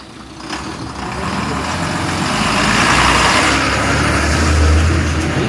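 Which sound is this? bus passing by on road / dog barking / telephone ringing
bus passing by on road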